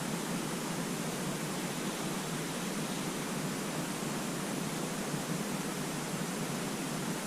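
Steady broadband rush of wind blowing through the woods, even and unbroken, moderately loud, with no talk.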